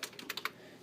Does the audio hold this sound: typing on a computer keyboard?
yes